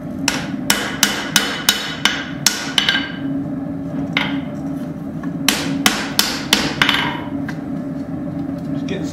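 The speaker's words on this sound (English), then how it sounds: "Just getting some of these rounding hammer marks out." Rounding hammer planishing a forged hatchet head on an anvil: a steady series of sharp metallic strikes in two bursts, loud and close, ringing over a low constant hum.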